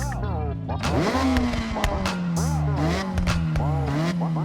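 Engine note of a Toyota Altezza RS200 rally build in the racing video game Forza Horizon 6 revving up and holding, an exhaust drone with rising and falling pitch, while a voice talks over it.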